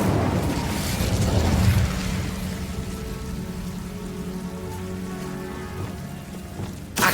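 A roaring, crackling burst of the Incendio fire spell in Hogwarts Legacy, loud at first and settling into a steady hissing rush that fades, with a sharp hit at the end.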